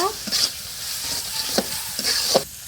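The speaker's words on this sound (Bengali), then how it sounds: "আমি মশলা দিয়ে শুটকিটা কষিয়ে নেব" Dried fish sizzles with spices in a pan, a steady crackle broken by several sharp scraping strokes of stirring, close and without talk.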